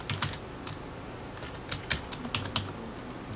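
Quick bursts of keystrokes on a computer keyboard as a folder name is typed, light clicky taps in short irregular clusters, close and clear with no talking.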